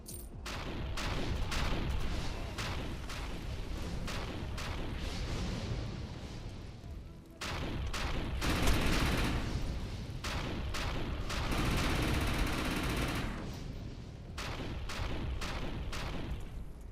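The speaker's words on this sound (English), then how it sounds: "Shotgun which shoots grenades." Grenade-firing shotgun in a multiplayer video game, shooting a dense stream of loud blasts and explosions with brief pauses, continuous and close with no talk.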